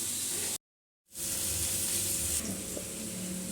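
Elephant foot yam stalks cook in hot oil with a steady, loud sizzle close by. The sound cuts out briefly near the start, then returns and carries on with faint stirring scrapes.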